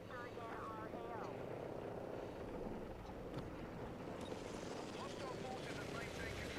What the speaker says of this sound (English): I've spotted a hostile helicopter in our AO.